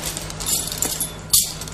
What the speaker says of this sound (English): Now, these are the Peabody's keys.